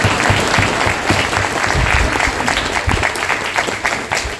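A crowd claps loudly and continuously for a comedy poet at a Hindi fortnight event held by the Bureau of Indian Standards, a dense burst of applause lasting several seconds.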